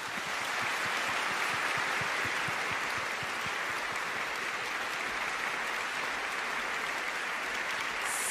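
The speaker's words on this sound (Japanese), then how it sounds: "拍手でお送りください" Audience applause at a live classical concert performance, a continuous broad wash of clapping from a sizeable crowd that holds steady and fairly loud for the whole stretch, with no voices.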